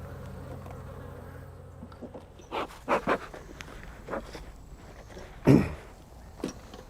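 A steady hum of honeybees buzzing close by at a hive entrance, broken by a few short soft puffs of a bee smoker and thumps.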